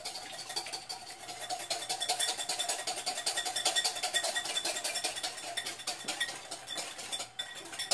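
Eggs Benedict ingredients being mixed in a bowl, with a steady, fast, continuous clinking and scraping of a utensil against the bowl that stays fairly quiet and even throughout, no talking.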